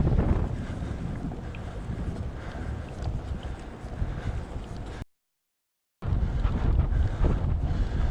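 Strong wind buffets and roars across the microphone in a steady rush, cutting out briefly to silence before returning just as loud.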